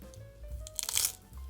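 A crunchy bite into homemade gim-bugak, crisp seaweed chips topped with almonds and pumpkin seeds, a short crackling crunch peaking once, close and fairly soft.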